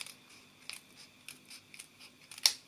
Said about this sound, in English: Take your scissors and just cut